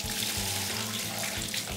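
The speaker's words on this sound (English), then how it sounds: "Okay, let's get some water on that." Tap water rinsing the body shell of a neglected Hornby Class 37 model locomotive, a continuous close rush of running water at a sink, steady throughout with no talk.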